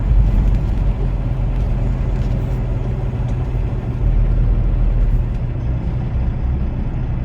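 Heavy traffic in a Kansas City jam, with cars, trucks and buses idling and rumbling around, a constant low drone with occasional hissing, heard from inside a vehicle without talk.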